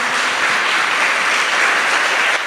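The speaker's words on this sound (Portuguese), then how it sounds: "Dê uma salva de palmas a esse Deus maravilhoso" A church congregation gives a round of applause during a sermon, a thick, continuous roar of many hands clapping at once, loud and even from start to finish with no talking.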